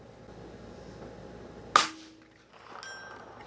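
One rifle shot fired at long range, a sharp crack followed by a short ringing tail and a faint distant metallic ping afterward, over quiet outdoor background.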